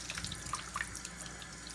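Cool water runs steadily from a kitchen sink tap for rinsing cut-up chicken, a soft close splash and trickle with no one talking.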